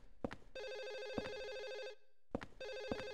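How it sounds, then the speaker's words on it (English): Telephone in the Silent Hill 4: The Room video game ringing in two long electronic trills with a pause between them, accompanied by heavy footsteps or thuds. "This phone is just gonna forever ring."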